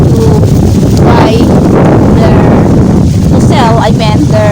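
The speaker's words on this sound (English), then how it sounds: "It's really quite windy, guys." Strong wind roars through mango trees in hot, windy weather, a loud, constant buffeting rush against the microphone, with a voice faintly audible underneath.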